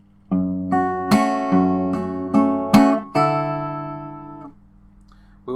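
Steel-string acoustic guitar playing bar 49 of a fingerstyle arrangement of a song, a run of seven sharp plucked and slapped chords with ringing sustain, played close and alone before a brief quiet gap.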